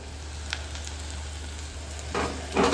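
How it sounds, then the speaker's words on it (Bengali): Dry red chillies, garlic and onion fry in mustard oil while tempering cooked greens, a soft continuous sizzle with a steady low hum under it, then louder bursts of spatter and stirring near the end. "এই যে একটু শুকনো মরিচ ভেজে রসুন আর পেঁয়াজ দিছি, আর সরিষার তেলে রান্না"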